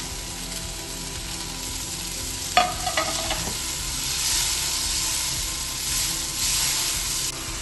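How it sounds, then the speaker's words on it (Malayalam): Tomato, masala and green chilli sizzle in a pan, a steady close frying hiss with a few spoon scrapes and clinks against the pan, with no talking. "ഇതിൻ്റെ കൂടെ പച്ചമുളക് കൂടി ഇട്ട് നമുക്കൊന്ന് വഴറ്റിയെടുക്കാം"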